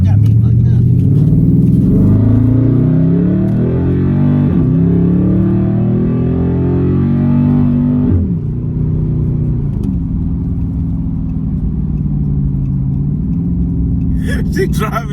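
A Dodge Charger SRT8 engine rumbles loudly from inside the car as it is driven, its deep revving pitch rising and falling, with people talking over it throughout.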